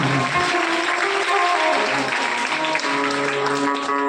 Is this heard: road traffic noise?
no